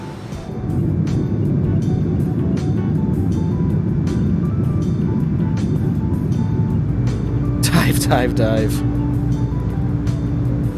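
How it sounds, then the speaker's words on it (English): Engines of an iniBuilds A300 FedEx cargo airliner in Microsoft Flight Simulator spool high, a steady, loud, broad roar that runs through the whole stretch while a voice speaks briefly over it. "Why does it sound like our engines are spooling so high?"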